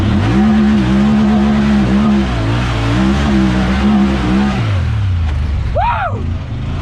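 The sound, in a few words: Honda Talon side-by-side braking hard and sliding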